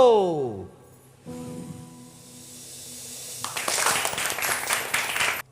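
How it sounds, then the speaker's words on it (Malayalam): Children perform a balloon clap at a Christian children's TV programme, a rubbery squeaky stretch and rising whoosh followed by a burst of scattered, bright clapping near the end. "Balloon clap go."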